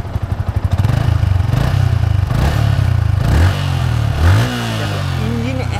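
A Yamaha R15 V2, eleven years old, sputters at idle then revs repeatedly, its exhaust note rising and falling loudly and close by, with a brief voice near the end.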